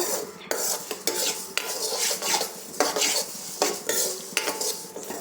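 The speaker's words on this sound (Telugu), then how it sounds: "స్టవ్ చిన్నగా పెట్టేసి ఇట్లా వేయించుకుంటేనే లోపల వరకు మంచిగా ఫ్రై అవుతుంది" Moong dal roasting in a pan over a low flame, stirred with a utensil that scrapes and clinks against the metal in steady repeated strokes, close by with no talking.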